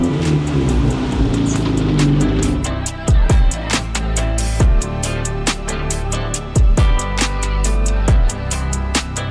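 A turbocharged Honda daily driver cruises through Atlanta, its engine droning loudly with repeated rising revs and sharp shift breaks, close and continuous with no talk.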